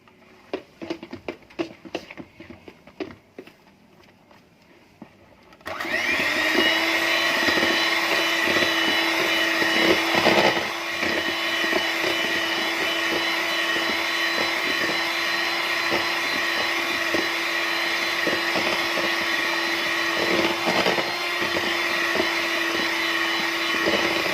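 An electric mixer switches on after a few seconds of quiet clatter and then whirs steadily and loudly, beating cake batter for a simple budget cake, its tone holding constant with slight wavers through the rest.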